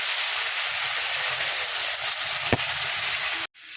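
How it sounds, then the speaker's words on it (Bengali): Ginger, cumin and green chili paste hits hot oil already fried with bay leaf and cumin seeds for a rohu fish and ridge gourd curry, giving a steady, close, broad sizzling hiss with one brief click near the end before it cuts off. "আদা, জিরা, কাঁচা লঙ্কা মশলাটা দিয়ে দেবো।"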